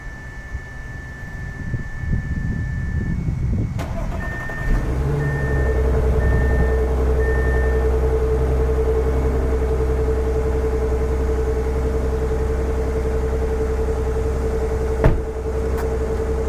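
An Audi A7 engine cranks briefly after a spark plug change, then catches and settles into a steady, close idle with a low rumble and a faint whine, running on alone.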